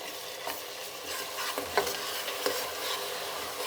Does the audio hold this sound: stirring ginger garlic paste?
yes